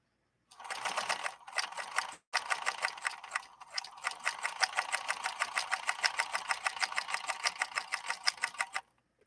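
A 1958 Singer 222K sewing machine stitches through leather in a fast, even run of mechanical clatter, close and clear, after a few short starts and pauses.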